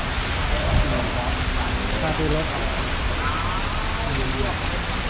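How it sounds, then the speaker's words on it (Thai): Steady rain falls on surfaces outdoors, a constant hissing wash at moderate level, with a voice speaking faintly underneath for a moment. "แต่ฝนดันตกซะงั้น ไปไหนไม่ได้เลย"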